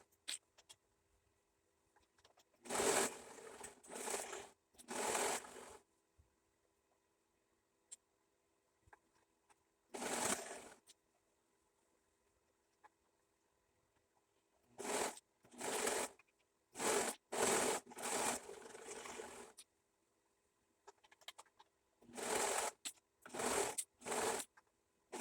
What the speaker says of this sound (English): I'm going to go ahead and start serging it